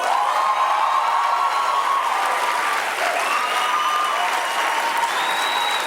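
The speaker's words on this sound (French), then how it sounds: "Merci à tout le monde de m'applaudir comme ça." Studio audience at a French reality-show gala applauding warmly, continuous dense clapping with a few cheers and whoops, steady and loud from start to end.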